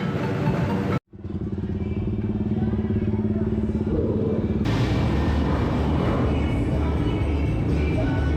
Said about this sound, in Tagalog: At eto, hinihilera na yung mga motor.